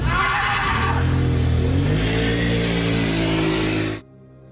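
A scooter engine revs hard and steady for about four seconds, loud and close, rising slightly in pitch as it pulls away, then cuts off abruptly.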